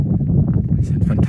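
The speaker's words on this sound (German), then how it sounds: "An diesem Grat mit dem starken Wind." Strong wind buffets the microphone on a mountain ridge in Mallorca, a loud, low rumbling roar with gusty swells, while a person speaks over it.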